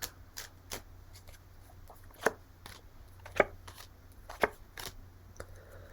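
Tarot cards being shuffled by hand, a quiet sequence of soft riffling bursts and sharper card snaps at irregular intervals, close and alone in a still room.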